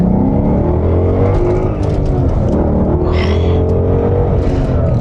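A used Ford Mustang GT's engine revs and accelerates under load, its loud, close roar climbing in pitch in rising sweeps, with a brief whoosh of passing air partway through.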